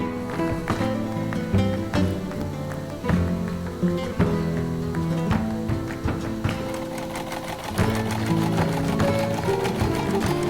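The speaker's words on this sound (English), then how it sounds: "There I'm gonna sew." Domestic sewing machine stitching a fabric face mask, a steady close rapid mechanical chatter with brief pauses and restarts throughout.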